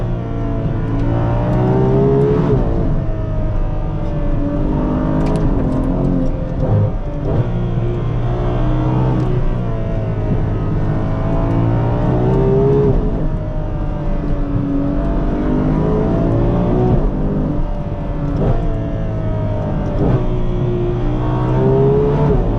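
A Ferrari 812 Competizione's engine revs hard while driving, a loud, continuous high-pitched wail that rises and falls through gear changes, heard from inside the car with no talking.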